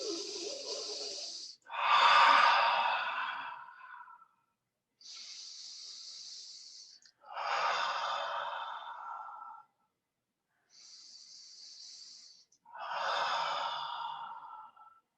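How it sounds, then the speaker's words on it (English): Slow, deep cleansing breaths during a yoga flow: three long inhale-exhale cycles, each inhale a soft airy rush and each exhale a fuller breathy sigh, close and fairly loud with silent gaps between, no talking. "Take 3 cleansing breaths."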